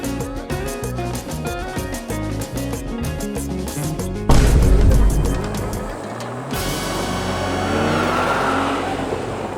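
Loud, continuous racing-car engine roar from go-kart racing on a track in Busan, with a sharp change partway through and a steady mix of engine noise and music throughout.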